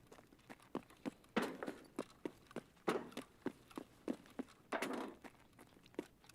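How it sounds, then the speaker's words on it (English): Footsteps in the Escape From Tarkov video game, a steady series of dull thudding steps on an indoor floor, about two per second with a few heavier scuffs, fairly quiet and without talk. "I hear footsteps."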